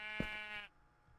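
A sheep in a blocky sandbox game called bloXCentric gives one sharp bleat, fairly close and clear, which fades out after about half a second.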